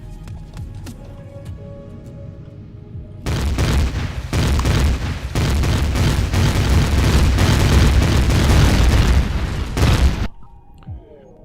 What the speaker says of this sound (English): All the rockets heading right for my face.